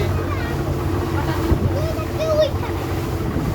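Passenger launches race on a river as a steady engine drone and rushing water and wind fill the scene, with brief faint squeaks rising over the hum.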